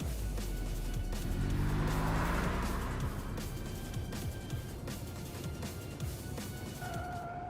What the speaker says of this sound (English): The car emerges from the tunnel and races through the streets of the killing zone.